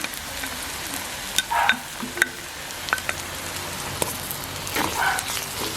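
Garlic frying in sesame oil for a garlic chutney, a close, steady sizzle broken by the scrape and clink of a stirring spoon at irregular moments.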